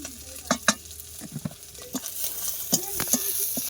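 Snakehead fish fry being fried spicy with chopped onion in a pan, with loud clattering stirs and scrapes of the spatula over a continuous sizzle up close, and no talking.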